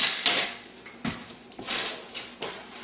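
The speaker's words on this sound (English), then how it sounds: "We're going to fasten this on with a piece of tape." Paper-wrapped stereo component being taped shut, giving a series of short crackling pulls and sharp tearing bursts of tape, close and fairly loud with irregular rhythm.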